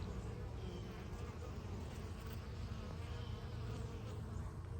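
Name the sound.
bees buzzing in a backyard garden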